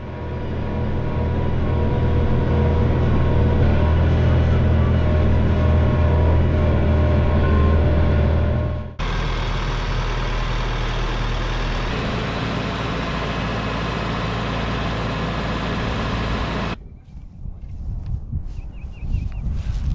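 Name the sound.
tractor engine moving a Texas Hunter deer feeder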